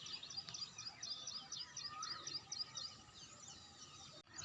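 Several small birds chirp and twitter in quick, bright bursts over open wheat fields in the morning, fairly faint and distant against a quiet rural background.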